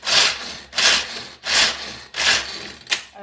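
Hazelnuts being crushed for a hazelnut, pear and chocolate cake: four long, rough grinding strokes in a steady rhythm, then a short sharp crunch, loud and close with no talk.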